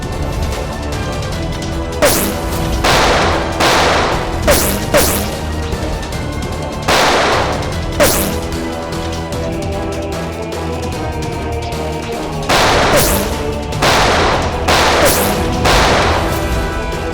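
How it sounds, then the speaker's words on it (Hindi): Bursts of gunfire crackle in clusters, with short automatic volleys separated by brief pauses over a constant background rumble. "बहुत जल्द गोलियां खत्म हो जाएंगी।"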